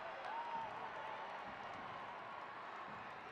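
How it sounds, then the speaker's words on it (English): Stadium crowd at a Portland Thorns vs San Diego Wave women's soccer match roaring in a premature frenzy at a shot, a steady, distant wash of cheering and applause sustained throughout. "The crowd goes into a premature frenzy."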